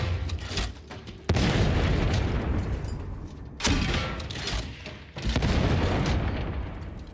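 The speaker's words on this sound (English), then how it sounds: "this is a grenade launcher" Grenade launcher fired in the video game Darktide: several heavy booming blasts, each with a sharp onset followed by a long rumbling tail, loud and close, spaced a couple of seconds apart.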